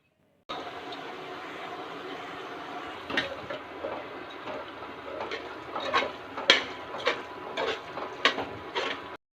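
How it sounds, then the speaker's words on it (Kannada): Spices being stirred and fried in a pan for chicken gravy, heard as a steady low hiss with intermittent scraping and tapping of a utensil against the pan that grow more frequent and pronounced partway through. "ಎಲ್ಲ ಸ್ಪೈಸಸ್ನು ನೀಟಾಗಿ ಮಿಕ್ಸ್ ಮಾಡಿಕೊಂಡು ಒಂದು 5 ಮಿನಿಟ್ಸ್ ಫ್ರೈ ಮಾಡ್ಕೋಬೇಕು"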